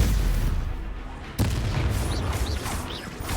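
A Confringo explosive spell going off in the Hogwarts Legacy video game, a single sharp blast cutting through a rumbling battle din, followed by scattered whooshing magical effects and low continuing noise.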